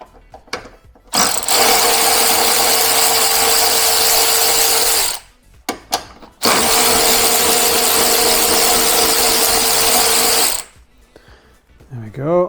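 A power tool whirs loudly and steadily in two long bursts while removing gallery gasket bolts from a Nissan 350z HR engine in a Nismo 380RS Superleggera, with brief clicks and a short voice between runs.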